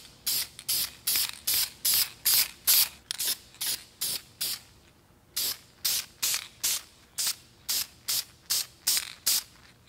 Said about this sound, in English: And now we put on our third and final coat.